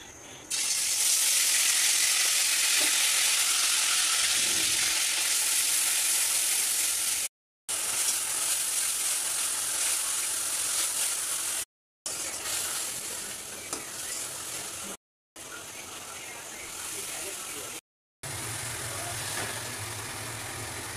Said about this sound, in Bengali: মাছের মাথাটা রান্না করবো আজকে বাটা মশলা দিয়ে